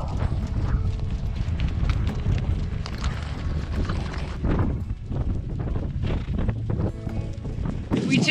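Horses shuffle and clop around a paddock in Iceland, hooves thudding steadily on the ground amid wind noise, with a brief voice near the end.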